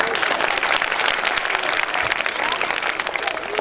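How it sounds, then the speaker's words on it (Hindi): An audience applauds for Dr. Bhimrao Ambedkar during a speech, a dense steady burst of many hands clapping close by, lasting a few seconds. "मैं चाहता हूं डॉक्टर भीमराव अम्बेडकर के लिए आप एक बार जोर से तालियां बजाएं"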